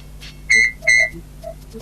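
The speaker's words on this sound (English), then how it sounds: "When you hear Thomas whistle, turn the page." A Thomas the Tank Engine read-along chime gives two short, bright whistle toots in quick succession against a quiet background, with no one speaking.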